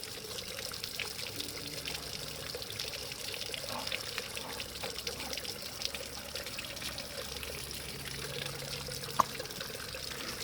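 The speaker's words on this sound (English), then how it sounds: "Put your pipe inside, and you can see there's green colored water coming out." Green-tinted coolant flush water pours steadily out of a pipe during a home engine coolant flush on a car or bike, a continuous, moderately close trickling stream with no talk.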